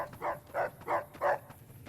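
A dog in the video game Fallout: New Vegas barks four times in an even rhythm, each bark short and mid-pitched, fairly close and clear over a quiet background.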